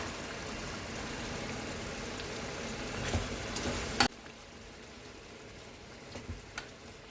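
Mushroom masala cooks in a pan, a steady low sizzle that drops suddenly quieter after a clatter as a lid goes on, leaving faint simmering and a couple of small knocks.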